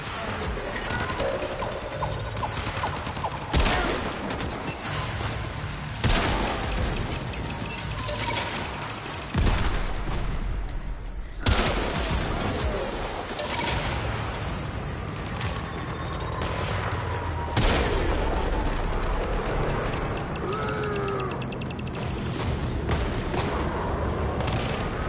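Gunfire in Warframe, a dense run of loud shots and crashes with sharp onsets every few seconds over continuous game noise and effects, no talk.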